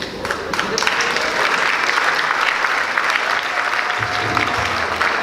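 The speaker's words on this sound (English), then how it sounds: "Let's give them one more round of applause." An audience at a school debate event applauding, dense sustained clapping from many hands filling the room at a steady loud level throughout.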